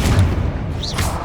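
A Confringo spell blast fired in the Hogwarts Legacy video game, heard as a dense, booming burst with a swooshing whistle toward the end, loud and close with no talk over it.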